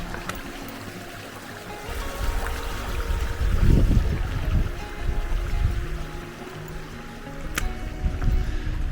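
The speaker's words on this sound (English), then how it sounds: "easy crossing here. It's a water crossing." Shallow stream crossing on a High Sierra hiking trail near a small lake, with broad, steady water rush and splashing, including a louder surge of close churning midway, continuous throughout.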